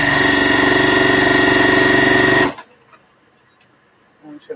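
A sewing machine stitches a quilt seam in a steady, loud, fast buzzing run for about two and a half seconds, then stops abruptly, leaving near silence with a few faint handling sounds.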